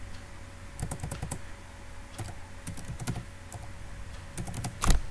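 Fingers tapping out a website address on a computer keyboard, short bursts of quick clicks separated by brief pauses, close and fairly quiet with no talking.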